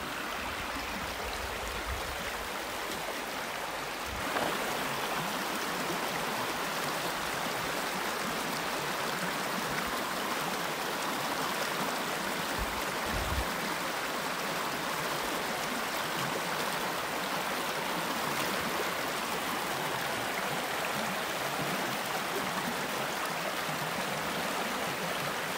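River water at McCormick Creek rushes steadily and close by, a continuous broadband wash with no voices.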